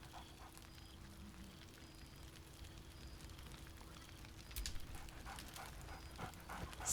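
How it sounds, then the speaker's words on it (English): The dog Scratch in the Baldur's Gate 3 video game pants softly and steadily against a faint background hum, with a few short sharp sounds toward the end. "Scratch barks merrily in something like agreement."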